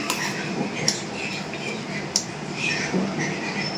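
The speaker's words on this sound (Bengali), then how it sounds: "ও ভাতটা বেড়ে নিই" A few light spoon-on-dish clinks and scraping sounds as rice is served onto a plate, sparse and close, over a soft room hum.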